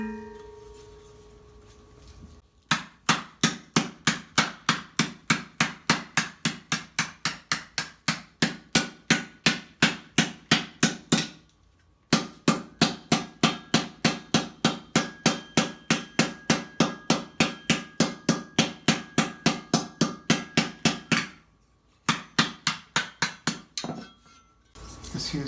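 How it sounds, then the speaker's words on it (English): A hammer strikes a steel armor breastplate edge in rapid, evenly spaced ringing blows, loud and close, in three long runs separated by short pauses, with no talking. "we're going to have to hammer it out a little bit"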